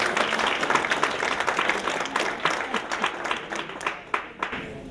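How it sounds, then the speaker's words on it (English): An audience at a women's luncheon claps steadily throughout, a dense crowd of hands with no voices heard over it, the applause thinning slightly toward the end. "Give yourself a round of applause."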